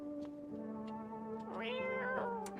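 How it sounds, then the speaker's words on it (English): A cat meows in the video game No, I'm Not A Human, giving a few short, fairly quiet rising meows over a low steady tonal background hum, with no talking. "That's a cat."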